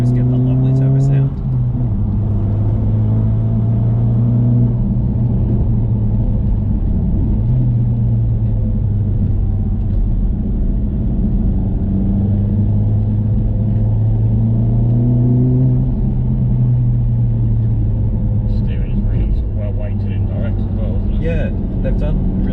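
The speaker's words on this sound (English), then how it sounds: "you just always get that lovely turbo sound" Honda Civic Type R FK8 turbo engine droning steadily at close range throughout, with a smooth rising and falling intake tone as boost builds, under continuous conversation.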